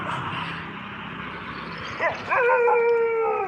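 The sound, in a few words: dogs barking and howling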